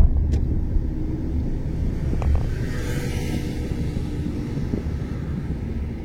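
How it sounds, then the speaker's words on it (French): A car drives past during a driving lesson, a steady broadband road and engine rush that holds fairly constant throughout with some wind noise, no talk. "J'attends que le véhicule ait passé."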